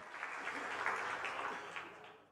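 Audience at a Marathi stand-up comedy show clapping, a steady moderately loud wash of applause that swells and then fades out, with no speech over it.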